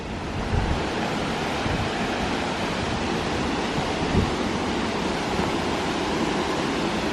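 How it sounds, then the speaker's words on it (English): A waterfall at the end of a trail in Kauai roars as a steady, dense wash of falling water, loud and unbroken with some wind buffeting the microphone. "Trail ended in a waterfall. I hear the water."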